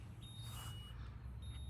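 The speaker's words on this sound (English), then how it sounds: "It's starting to beep right here." A SpotOn Nova GPS dog collar beeps at its boundary, with thin high-pitched tones that start, stop and change pitch, heard close over a low outdoor rumble.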